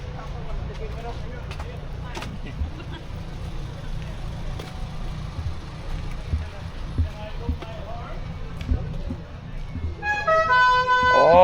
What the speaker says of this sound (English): Proper air horn.